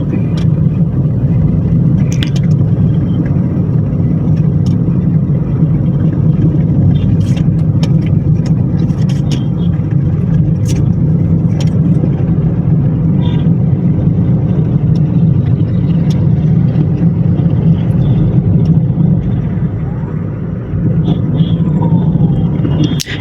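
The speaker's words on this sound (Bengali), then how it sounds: "এটা হচ্ছে অফিস টাইম, এই জন্য রাস্তায় প্রচুর জ্যাম।" Heavy office-hour traffic jam on the roads at Hatirjheel, Dhaka: a steady, dense rumble of idling and creeping engines fills the scene continuously, with occasional brief higher sounds poking through.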